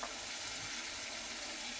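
Steady, dense sizzling as vegetables such as eggplant and green chillies are tossed into hot spice paste with dried fish in a pan. The frying hiss is even and close, with no pauses.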